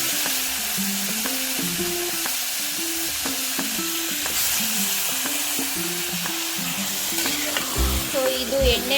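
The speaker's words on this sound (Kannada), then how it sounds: "ಸೊ ಇವಾಗ ನಾನು ತೊಳೆದಿಟ್ಕೊಂಡಿರೋ ಲಿವರ್ ಹಾಕ್ತಾ ಇದ್ದೀನಿ." Washed liver dropped into hot oil and stirred, a steady close sizzle broken by repeated rhythmic scrapes and clinks of the spoon against the pan, with a couple of heavier knocks near the end.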